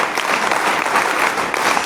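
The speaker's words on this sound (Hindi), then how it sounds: "एक बार जोरदार ताली बजाइए ताकि आप शिथिलता दूर हो।" A school hall audience claps loudly and steadily, a dense wash of hands at a cyber awareness day event, with no voices over it.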